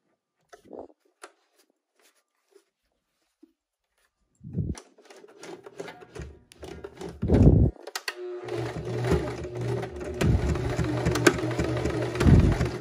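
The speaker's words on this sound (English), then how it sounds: "Then we can stitch it around." A sewing machine runs a straight stitch around a patch pocket a few millimetres from the fold, in a few short bursts and then a steady, fairly loud whirring run, with handling noises before it starts.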